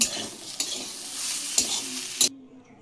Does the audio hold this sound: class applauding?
no